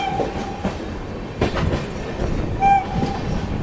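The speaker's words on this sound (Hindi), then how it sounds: "अपनी ट्रेन जो है रंगिया जंक्शन पे एंटर कर रही है" Dibrugarh Rajdhani Express running into Rangiya Junction: steady rail rumble and rolling wheel noise with short tonal horn or brake-squeal tones near the start and again near the end, fairly close and continuous.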